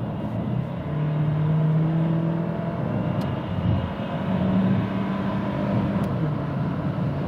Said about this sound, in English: due to the turbo, you can accelerate on the motorway